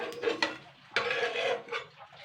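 Homemade flour noodles are lifted onto a plate, with a few scraping, clinking utensil knocks against the dish at close range in a quiet kitchen.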